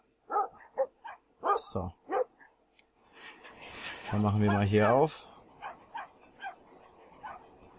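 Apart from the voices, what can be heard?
dog barking and attacking in video game Brothers: A Tale of Two Sons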